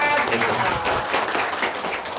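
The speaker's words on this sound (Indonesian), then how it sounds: "Tepuk tangan" Audience applause at a seminar talk, a loud, dense burst of many hands clapping with crowd murmur and a voice underneath.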